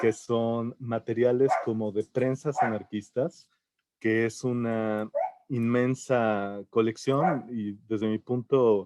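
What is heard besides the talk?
dogs barking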